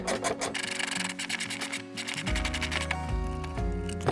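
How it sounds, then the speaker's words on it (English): Ratchet rapidly loosening a nut on a Mitsubishi Delica L300 alternator, giving a loud, fast continuous clicking rasp with steady background hum. "Switching over to a ratchet side for optimal speed."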